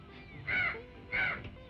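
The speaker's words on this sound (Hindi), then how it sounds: "तू जानता है कौवा क्यों बोल रहा है?" A crow caws twice in a Hindi film scene, two loud, harsh, evenly spaced calls close by against a quiet background.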